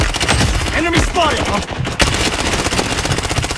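Rapid automatic gunfire from the video game Blood Strike, loud dense bursts filling the clip, with a brief lull in the middle before the shooting resumes.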